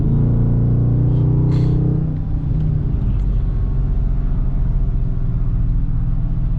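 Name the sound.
black widebody Dodge Hellcat pulling up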